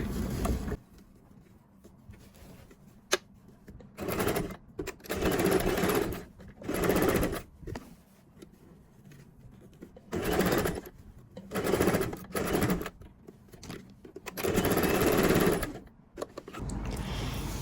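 A sewing machine stitching the lining of men's trousers runs in repeated whirring bursts of one to two seconds, close by, with short quiet pauses between them.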